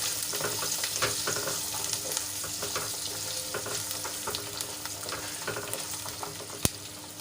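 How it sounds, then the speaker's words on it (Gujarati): Garlic sautés in hot oil with a soft, continuous sizzle and faint crackles, light stirring taps throughout and a single sharp knock near the end. "લસણ આપણે એમાં એડ કરી લઈશું અને તેલમાં સરસ રીતે મિક્સ કરી લઈશું અને એને બે થી ત્રણ મિનિટ સુધી તેલમાં સંતળાવા દઈશું"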